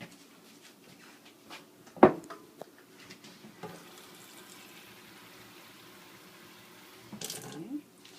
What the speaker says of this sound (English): Now I have to fill the pan with 1 cup of water.